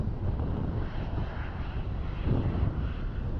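A Ryanair jet taxis at Dublin Airport, its engines producing a steady, broad rumbling whine heard from a moderate distance with light wind buffeting and no talking.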